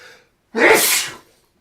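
A single loud sneeze bursts out close by, preceded by a brief quick inhale, then silence.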